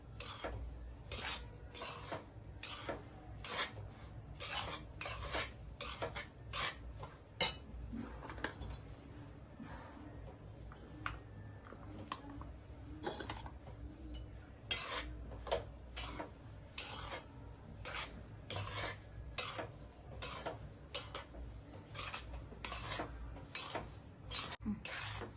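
Semolina roasting in ghee in a pan for besan laddoos, with a spoon scraping and clinking against the metal in a steady, repeated rhythm over a soft low background hiss.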